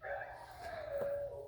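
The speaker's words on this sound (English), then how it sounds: "that's a dog that wants to talk." A hen-house dog lets out a long, drawn-out vocal whine-howl with a wavering pitch, one continuous cry of about a second and a half heard up close.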